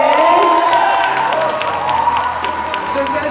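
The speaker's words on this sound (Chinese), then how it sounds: "掌声恭喜超级夜总会" An audience at a Sanlih TV Golden Bell Awards nominee event applauds and cheers, a continuous loud crowd wash blended with background music.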